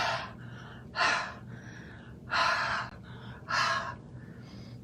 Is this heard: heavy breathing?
yes